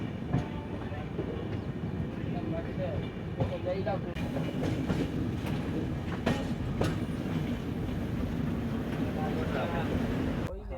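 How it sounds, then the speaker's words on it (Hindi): Grand Trunk Express train rolling through a curve, heard from inside a 3rd AC coach: a constant low rumble with rhythmic wheel clatter and occasional metallic squeals and clicks. "अभी भी हमारी ट्रेन को देखिए कर्व ही ले रही है।"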